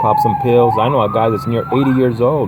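An ambulance siren wails nearby, its rising and falling tone running continuously under someone talking.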